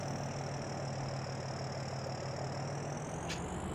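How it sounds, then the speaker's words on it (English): Harvester engine in a farming video game, a steady low mechanical drone idling at an even pitch, faint and continuous with no talking. "we'll just duck down and get that harvester going"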